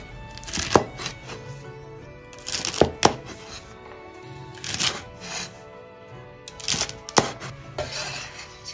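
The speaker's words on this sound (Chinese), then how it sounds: "然后把洗干净的蒜苔切成小段" A knife chops washed garlic scapes into short pieces on a cutting board, quick bursts of crisp taps in small clusters separated by pauses. The sound is close and fairly quiet.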